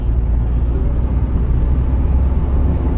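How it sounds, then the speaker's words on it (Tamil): A car overtaking on a highway, a steady loud low road and engine roar holding evenly throughout with no break. "இப்போ நான் ஓவர்டேக் அடிக்கிறேன்."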